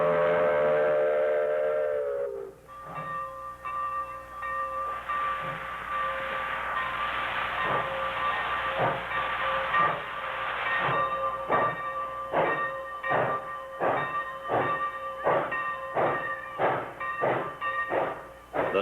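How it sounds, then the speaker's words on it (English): A Baldwin Mikado-type 90-ton superheated steam locomotive sounds one long whistle blast, then a sharp, rhythmic chuffing exhaust builds steadily as it pulls away uphill, loud and close. "One blast on the whistle and away for her final run up the hill."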